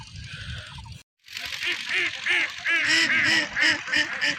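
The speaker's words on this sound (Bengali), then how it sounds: "আর এই যে এই পাশে হাঁস" A flock of ducks on a riverbank by a village quack repeatedly, close and fairly loud, with calls overlapping in a busy chorus.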